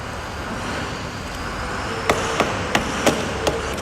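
A car battery cable is refitted and tightened on its terminal. Five sharp, faint metallic clicks of a tool come in quick succession over a steady background hum.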